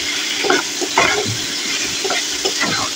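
A spoon scrapes and stirs through a pan of frying mrigal fish with potatoes for a Bengali curry cooked with little oil, in a few clear stirring strokes over constant sizzling, with no talk.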